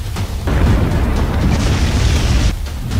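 Heavy bomb blasts in war-torn Ukraine during the Russian attack: loud, deep booming roars that surge at the start, sustain as a thick rumble, then ease and rise again near the end, with no speech.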